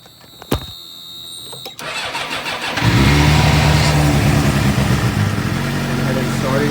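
A 2006 Suzuki GSX-R motorcycle, fitted with a new battery after it would not start, cranks briefly with clicks, catches and then settles into a loud, steady close-up idle.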